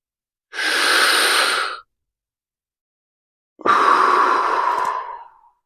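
Two long, breathy exhales during a neck and shoulder stretch, close and clear, separated by a couple of seconds of silence, with no talking.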